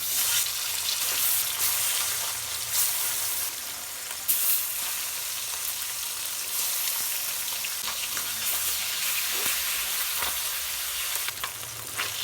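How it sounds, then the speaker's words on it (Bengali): Stinging catfish (shing fish) sizzles loudly in hot oil in a karahi, a dense continuous crackle and hiss with occasional sharper pops throughout. "তেল গরম হয়ে গেছে, মাছ দিয়ে দিব।"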